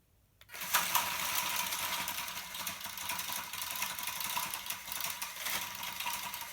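Small WPL C14 RC trucks in a tug of war strain at full throttle, their electric motors giving a steady, thin, high whine that starts suddenly and holds with slight wavering, faint and fairly close.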